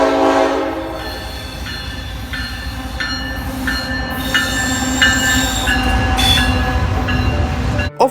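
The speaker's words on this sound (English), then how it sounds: "Overall, the horn sounds really epic" A CN G4 locomotive horn blares a sustained multi-tone chord in repeated blasts over the rumble and wheel squeal of a passing train, loud and close.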